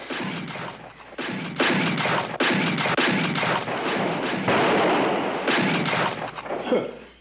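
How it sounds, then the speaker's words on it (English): Repeated gunshots in a western film, loud and dense, crack after crack over about seven seconds with little gap between them. "Getting pretty careless with those bullets, Joe."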